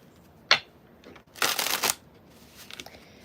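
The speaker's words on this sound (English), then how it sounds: "I like the shuffle on this deck" An oracle card deck is shuffled: a quick short riffle, then a longer crisp burst of cards, followed by faint softer handling, close up and with no voices.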